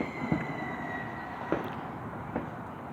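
Fireworks burst at a Florida firework show, three distant thuds spaced about a second apart over a steady outdoor background hum, moderately faint with no voices.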